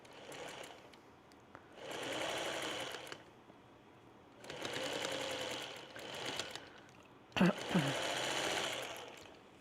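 A sewing machine stitching a quilt panel in three bursts of rapid rattling needle action, each a couple of seconds long, with quiet pauses between and a brief clunk before the last run.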